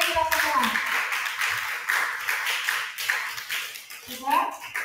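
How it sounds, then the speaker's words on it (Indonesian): A class of vocational high school students in grade 10 applauds together in a room, a dense stretch of clapping with some children's voices mixed in, fairly close and steady throughout. "Beri aplaus untuk kita semua."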